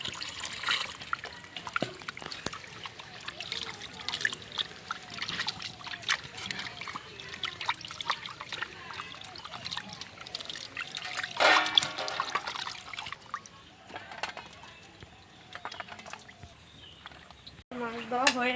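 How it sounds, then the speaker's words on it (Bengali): Tap water trickles and splashes continuously while tangra fish are rinsed by hand in a home kitchen, with occasional louder splatters and a voice talking at times over the flow. "ততক্ষণে আমি মাছগুলো ধুয়ে নিচ্ছি"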